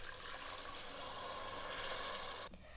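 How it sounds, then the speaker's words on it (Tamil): Water poured from a glass into a cooking pot for vegetable dum biryani, a continuous close splashing pour that cuts off sharply near the end. "நான் எந்த கிளாஸால் அரிசி எடுத்தனோ அதே கிளாஸால் தண்ணி ஊற்றிக்கிறேங்க"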